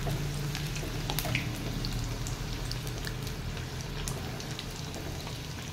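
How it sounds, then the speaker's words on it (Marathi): Dal pakwan dough frying in oil over a low flame, giving a steady, close crackling sizzle with small pops throughout and no talk. "आता आपण हे तेलामध्ये मंद आचेवर छान तळून घेऊयात"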